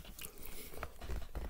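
Close, quiet biting and chewing of frozen-then-cooked barbecue rib rack with barbecue sauce, soft wet crunches and mouth sounds in short irregular bursts with no talking.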